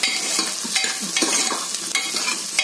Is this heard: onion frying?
yes